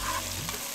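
Fenugreek seeds hit hot ghee in a pan and sizzle steadily, a close, loud frying hiss that carries on without a break, with no voices over it.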